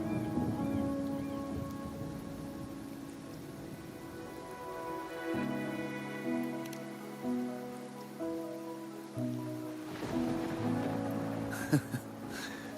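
Rain falls in the video game Wuthering Waves as a soft, continuous patter with a hint of distant thunder, sitting quietly beneath sustained musical tones and chords.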